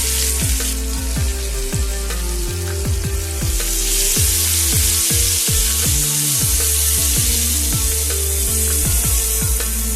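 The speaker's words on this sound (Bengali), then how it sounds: "পেঁয়াজ কুচিটা আমি একটু লালচে করে ভেজে নেব।" Sliced onions with a piece of cinnamon sizzle loudly in hot oil for an egg curry, a steady close crackle with repeated scraping stirs running through it and no talking.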